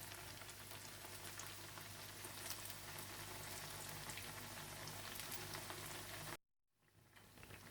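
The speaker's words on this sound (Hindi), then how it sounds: "दूसरी तरफ आप ऑयल गर्म कर लें और ब्रेड के स्लाइसिस ऑयल में अच्छी तरह से ब्राउन फ्राई कर लें।" Bread slices frying in hot oil give a continuous, fine, crackling sizzle at a quiet, even level that cuts off abruptly near the end before faintly resuming.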